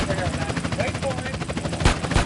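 Gunfire in GTA San Andreas: a couple of sharp, loud bursts near the end, over busy game noise and chatter.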